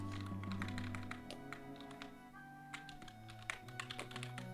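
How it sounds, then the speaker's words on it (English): Someone types on a computer keyboard in quick irregular clicks and taps, fairly close, over a low electronic hum with a few longer tones in the background. "That's a lot of typing"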